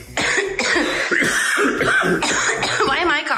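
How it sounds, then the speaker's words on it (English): Repeated harsh coughing fits, close by, several bursts in a row with brief breaths between them. "Why am I coughing?"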